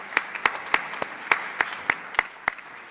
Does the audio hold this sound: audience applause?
yes